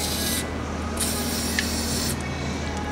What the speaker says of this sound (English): I'm just going to spray some double T